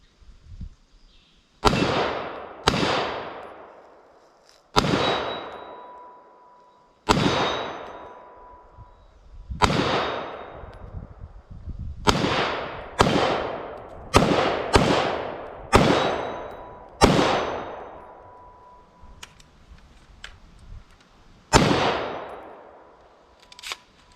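Rifle gunfire at an outdoor shooting range: about a dozen loud, sharp single shots fired at uneven intervals, some in quick pairs, each followed by a ringing echo that fades out.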